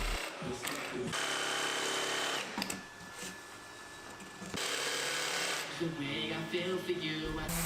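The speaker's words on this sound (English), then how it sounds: "I cut those out with the jigsaw." A jigsaw cuts notches in walnut for a trunk storage box, a fast buzzing rattle in short bursts separated by brief pauses, close but fairly quiet.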